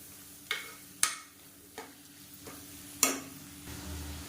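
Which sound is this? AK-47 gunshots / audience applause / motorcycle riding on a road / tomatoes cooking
tomatoes cooking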